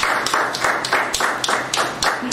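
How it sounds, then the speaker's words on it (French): A small audience claps at an outdoor African Child Day event in Cameroon, a few hands beating in a quick, fairly even rhythm, close and somewhat sparse, with no talking. "Est-ce qu'on peut applaudir monsieur Foto?"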